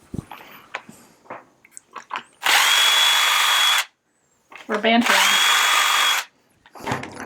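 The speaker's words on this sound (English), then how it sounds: "So why we are using a drill on this?" A power drill whirs loudly in two sustained bursts into a wooden shutter, each lasting over a second, with brief speech and clatter around them.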